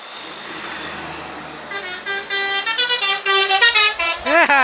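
A Volvo B11R coach passes close by, its engine rumbling beneath a rapid series of loud, musical multi-tone horn blasts that grow in intensity toward the end.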